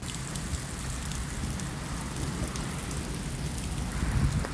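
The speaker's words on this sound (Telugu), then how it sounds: "వడగళ్ళు వాన పడుతుంది. వడగళ్ళు అయితే చాలా ఎక్కువ పడ్డాయి." Heavy hail pelting down during a storm in Italy, a dense, steady roar of impacts with a slight swell near the end and no voices.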